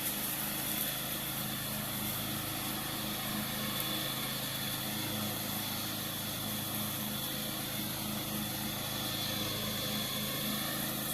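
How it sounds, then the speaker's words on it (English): A riding lawn mower drones steadily while mowing a yard, a continuous, even engine hum that never rises or falls, with no other sounds standing out. "He's mowing his first yard on a riding lawnmower."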